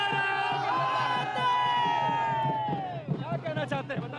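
A large crowd at a prime ministerial roadshow in Varanasi roars with shouting and cheering, dense and close. One voice rises above the crowd before the noise turns into choppier bursts.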